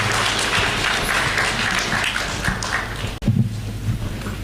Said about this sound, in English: Let's give a clap to